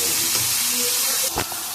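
Grated boiled carrot hisses and sizzles steadily in a hot pan for a carrot fry, with a brief louder scrape of stirring near the end.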